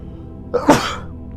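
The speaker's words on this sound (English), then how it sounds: "I gotta sneeze again." A single sharp sneeze with a brief inhaled catch just before it, close and fairly loud against a quiet background.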